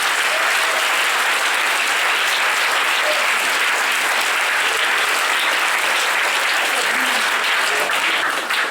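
A large crowd at a church convention applauds steadily and loudly for the whole stretch, a dense unbroken wash of clapping.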